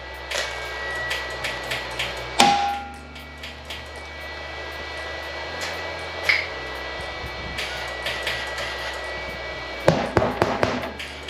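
A wire-feed welder crackles in uneven bursts while running a bead on a riding mower's front axle, with loud close pops and spits separated by short quiet gaps.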